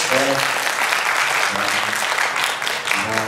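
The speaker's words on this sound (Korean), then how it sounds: "박수 한번 쳐주세요" A church congregation at a Korean Sunday worship service applauds loudly and steadily, dense clapping filling the room, with a few voices breaking through.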